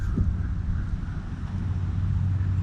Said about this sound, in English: Cold and windy.